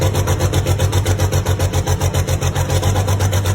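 A Cummins 855 diesel in a Ford FW-30 Steiger Panther tractor runs in cold winter weather, a loud, close, steady rumbling idle with an even pulsing beat and no talking.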